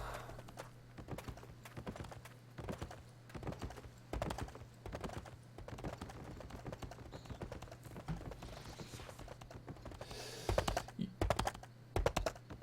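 Horse hooves clip-clopping in the online game Albion Online, a quiet regular patter running under frequent computer keyboard typing and clicks, with a brief louder cluster near the end.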